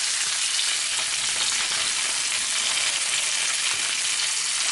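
Chicken pieces for brown stew sear in a hot pot, giving a steady, loud, close sizzle of frying oil that runs unbroken without any talk.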